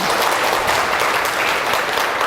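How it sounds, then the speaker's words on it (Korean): An audience at a lecture on the Buddhist master Wonhyo claps in welcome, a brief, steady wash of many hands applauding at an even level. "큰 박수로 환영해 주시기 바랍니다"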